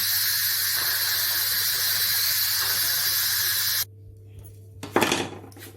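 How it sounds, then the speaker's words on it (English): Pressure cooker venting steam after cooking lamb curry, a loud steady hiss for several seconds that cuts off abruptly, followed by a quieter pause and a short burst of rattling clatter. "I'm just gonna let the pressure out"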